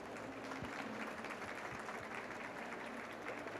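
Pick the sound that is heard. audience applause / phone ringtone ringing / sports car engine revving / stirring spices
audience applause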